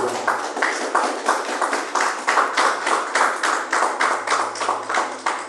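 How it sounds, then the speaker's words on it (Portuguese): A church congregation claps for Jesus in a strong, regular rhythm, many hands striking together in steady unison beats, loud and sustained with a low hum beneath. "palmas para Jesus"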